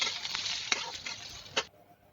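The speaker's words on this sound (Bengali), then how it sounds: "এর জন্য বিটটা ভেজে নিচ্ছি" Beetroot and ginger fry in oil for about two seconds, a steady bright sizzle with two sharp stirring clicks before it cuts off.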